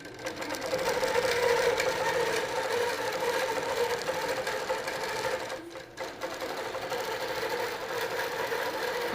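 Quilting sewing machine stitching along a quilt border, a steady close whirring hum that runs without a break, dips briefly near the end, then resumes at full speed.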